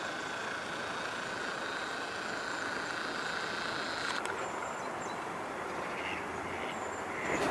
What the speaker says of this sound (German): Und hier kommt gerade so ein ganzer Schwarm Enten.